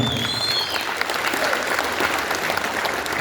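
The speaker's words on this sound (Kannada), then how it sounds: "ಒಂದು ಜೋರಾದ ಚಪ್ಪಾಳೆ" Loud applause from a crowd at a company event in Tumakuru, in honour of the team and promoting partners, sustained dense clapping filling the whole stretch without speech.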